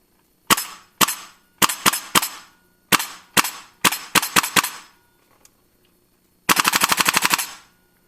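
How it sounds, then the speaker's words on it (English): A GHK KAC PDW gas blowback airsoft rifle firing, sharp metallic cracks in single and double shots with gaps, then a rapid full-auto burst of about a dozen snappy shots, close and loud. "That metallic sound with the gas rods going back and forth, it sounds just mean as hell"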